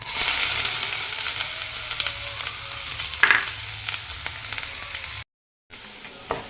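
A steady sizzle of garlic and ginger frying in a pan for a dhaba-style egg masala curry, with a few scraping stir sounds, a brief cut to silence, then more sizzling.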